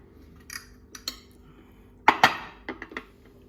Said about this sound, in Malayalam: ഇനി നമുക്ക് ഇതുപോലെ ഒരു പ്ലേറ്റ് വെച്ചിട്ട് ഇതൊന്ന് മറിച്ചിട്ട് കൊടുക്കാം